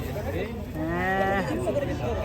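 A prize-winning contest cow moos loudly as it is unloaded from a truck at a Banyuwangi cattle show, one long drawn-out bellow with a rising harmonic tone over crowd noise.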